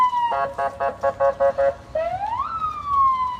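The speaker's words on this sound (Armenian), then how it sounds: "ինչ ձայնային ազդանշաններով տանում են" A police siren blares nearby, first in rapid repeated yelping bursts, then a single long rising and falling wail.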